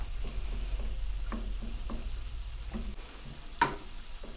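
A spoon stirs chili powder and crushed red pepper into a ground beef casserole mixture, making soft, quiet scraping strokes in an uneven rhythm over a low hum, with one sharper scrape near the end.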